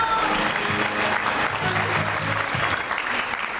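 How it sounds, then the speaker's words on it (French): An audience at an amateur comedy show applauds steadily to welcome a contestant onstage, a continuous moderate wash of clapping lasting the whole stretch. "Sous vos applaudissements."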